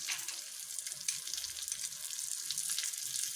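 Curry leaves hitting hot oil in a tempering with asafoetida and urad dal for an okra vegan raita, giving a steady, bright crackling sizzle with small pops throughout, close and continuous.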